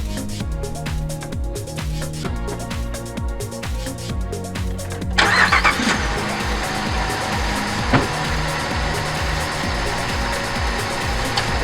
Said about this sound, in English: I'm going to start up the vehicle here